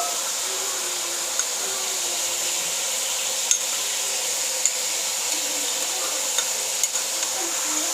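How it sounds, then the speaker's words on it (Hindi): Chicken fries in oil with ginger garlic paste, giving a steady, close sizzle with a few light clinks from stirring and no talk. "अच्छी तरह फ्राई करेंगे इसी ऑयल में"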